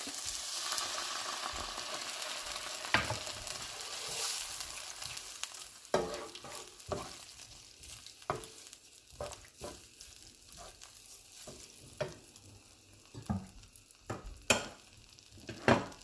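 Jamaican-style jerk shrimp sauce simmering in a pan, a steady close sizzle and bubble with repeated scraping stir strokes and utensil knocks scattered throughout, no voices.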